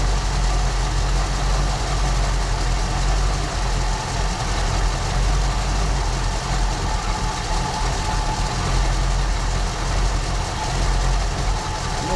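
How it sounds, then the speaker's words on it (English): A 1974 Ford Bronco engine idles steadily in its first start after more than 16 years, a constant low rumble with broadband noise holding at an even level throughout, with no talking. "gonna let her idle there a little bit. Nice and quiet, guys."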